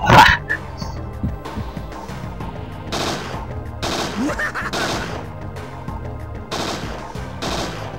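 Attacking dog in the video game Parasite Eve 2, with sharp barks and snarls mixed with bursts of gunfire and game effects, loud and busy throughout.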